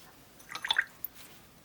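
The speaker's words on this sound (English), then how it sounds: "Just going to add a bit of water to that." A few small drips and squishy splashes of water land in golden glitter green metallic paint, faint and close, with a brief soft wet dabbing in a quiet room.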